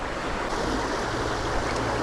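A clear trout stream rushes along a run of water, a steady broadband wash of flowing current close by with no voices.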